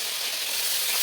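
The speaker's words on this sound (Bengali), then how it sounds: "হলো হলো মাছ ভাজা হলো" Fish fries in a pan with a bright, dense sizzle of hot oil, steady and close throughout a brief moment.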